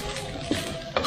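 Sambal sizzles softly in a pan as a spoon stirs it, brief scraping strokes over a steady low frying hiss.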